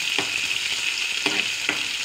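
Ginger paste and onions sizzle in hot oil in a tempering for a ridge gourd and red gram curry, a steady loud frying hiss broken by a few scrapes of stirring, with no voices.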